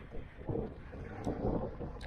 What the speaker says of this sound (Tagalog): Lakas kasi ng hangin